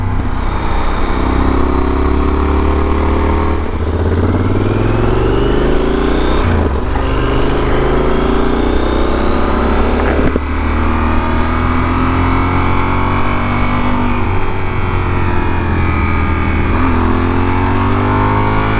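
Yamaha Super Tenere motorcycle with an upgraded aftermarket exhaust, heard loud and close throughout as the engine revs and pulls through the gears, with rising pitch sweeps and brief dips at each shift.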